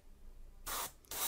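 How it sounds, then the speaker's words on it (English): An airbrush sprays black primer onto a miniature model in two short, controlled hissing bursts separated by a brief pause, close and fairly quiet against a faint room background. "I spray a little bit more, but I'm also doing controlled spurts"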